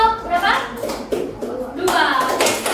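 Children clapping together for a classroom group, mixed with kids' voices and shuffling; the hand claps come in bursts, loudest near the start and again toward the end.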